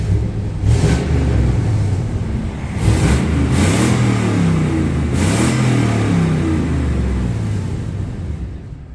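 A car engine with fabricated pipes fitted in place of its catalytic converters, running steadily up close with a deep rumbling exhaust and several brief revs rising over the idle.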